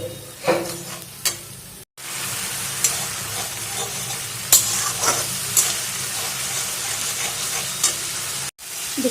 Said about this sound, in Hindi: ये प्याज और अदरक लहसुन के पेस्ट को हमें बहुत अच्छी तरह से भून लेना है